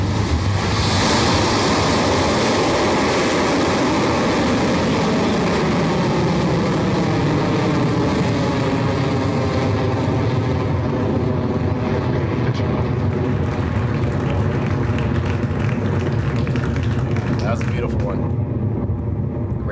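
A Rocket Lab Electron rocket lifts off with a continuous, heavy rumbling roar that holds loud and steady for about eighteen seconds before cutting away, its crackle filling the whole sound.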